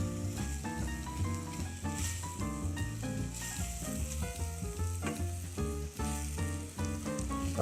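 Onions and garlic sizzle in a pan for a plant-based lasagne, a steady close frying hiss that runs without a break under a dense, tonal layer of other sound.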